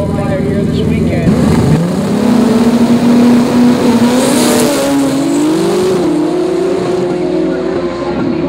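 Honda CBR 1000RR drag bike without a wheelie bar racing down the quarter mile, its loud engine note rising steadily as it accelerates hard, with an announcer talking over it throughout.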